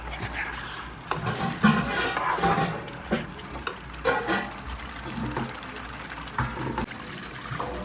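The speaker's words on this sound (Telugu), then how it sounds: "ఒక కప్పు వాటర్ అయితే వేస్తున్నాను నేను" Water trickles and pours steadily into a pot of gongura chicken, a cup's worth splashing in with a few brief clinks against the vessel.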